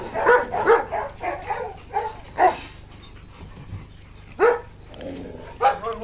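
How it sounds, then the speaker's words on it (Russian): Several dogs bark in short bursts with some low growling between, close and fairly loud, with a few quiet pauses. "Наши собачки."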